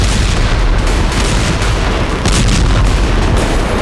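Russian artillery shells Ukrainian positions in Kursk province, producing a loud, dense, continuous rumble of booms with no clear gaps between them.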